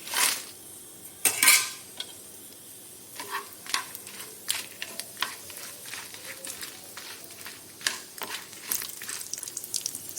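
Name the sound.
dried red chillies frying in oil, stirred with a spoon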